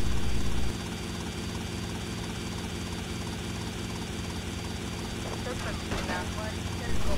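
In the game GTA Vice City, a helicopter's rotor and engine drone on steadily throughout, with a brief burst of impact or gunfire noise near the end.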